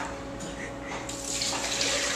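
Water running from a tap into a kitchen container for strawberry cupcake batter, a steady close pour that swells slightly louder midway, with no talking.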